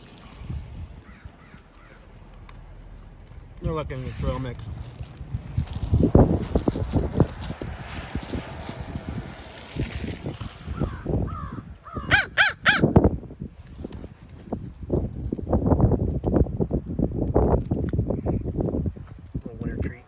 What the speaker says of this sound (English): We got some crows.